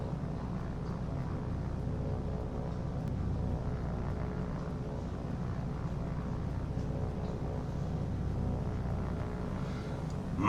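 A propeller warplane in a naval combat video game drones steadily and loudly, its engine rumbling on without a break for the whole stretch and no speech over it.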